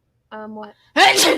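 A person sneezes once, a sharp, loud burst up close that comes right after a brief spoken word.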